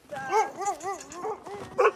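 Kennel dogs whimpering in a run of rising and falling whines, close and fairly loud, ending in a sharper yip.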